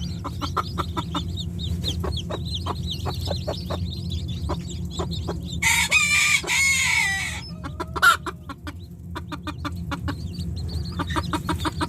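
Native chickens cluck in rapid, repeated bursts nearby, and a rooster crows loudly partway through before the clucking resumes.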